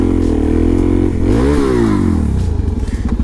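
A Suzuki DRZ400SM supermoto motorcycle runs close and loud, its engine note rising, dipping and climbing again as it works through the gears, with a clattery, uneven rumble toward the end and no talking.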